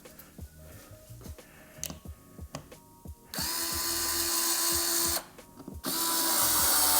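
A power drill drives screws into the wall to mount a Nest Learning Thermostat, 4th gen, after a few quiet handling clicks, in two sustained bursts with a brief pause between them, close and loud.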